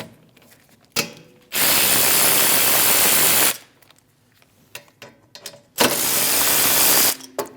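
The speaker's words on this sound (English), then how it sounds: "Using a 14mm socket, we're going to remove the 2 caliper bolts." A ratchet fitted with a 14mm socket loosens the two rear brake caliper bolts on a Mitsubishi Outlander, giving two long, loud, close bursts of rapid clicking with short metallic handling sounds in between.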